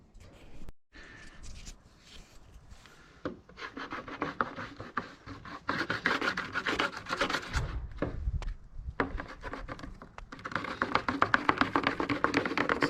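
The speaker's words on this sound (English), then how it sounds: "I'm going to go ahead and apply some of this wax. It just kind of pushes up onto there." Wax is rubbed and pushed onto the base of a Smitty snowmobile sled ski, producing close, irregular scraping and rubbing strokes that grow louder and denser toward the end.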